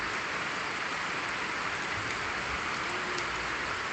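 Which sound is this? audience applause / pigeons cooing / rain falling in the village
rain falling in the village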